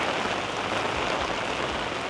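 Heavy rain pours down steadily in Penang, Malaysia, a dense, loud, unbroken wash of drops hitting surfaces nearby with no voices.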